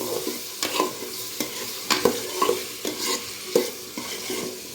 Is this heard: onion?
yes